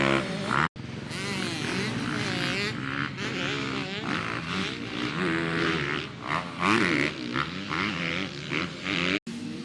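Motorcycle being ridden on a race track during a class day in Georgia, its engine roaring loud and close throughout, with revs rising and falling in quick sweeps and blips as it shifts down through the gears.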